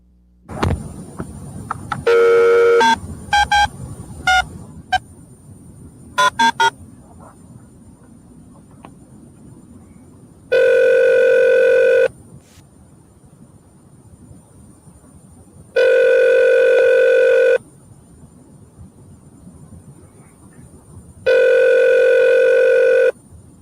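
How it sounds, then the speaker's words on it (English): A telephone call being placed: a dial tone, a quick run of touch-tone dialing beeps, then three long ringback tones spaced evenly apart with quiet gaps between them, loud and close. "This will be a phone call to"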